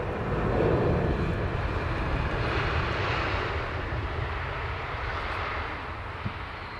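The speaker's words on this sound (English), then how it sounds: "Aircraft there, taxiing towards the threshold for 27 left" A Finnair airliner taxis at Heathrow Airport toward the runway 27 left threshold in the evening, its engines a steady, broad roar that holds loud before easing slightly, with no voices.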